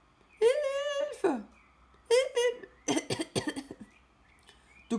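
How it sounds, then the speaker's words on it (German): A character in the Star Stable video game coughs in several harsh bursts, close and loud, starting with drawn-out strained coughs and ending in a rapid series of short hacking coughs. "Das hat gegen den Husten geholfen."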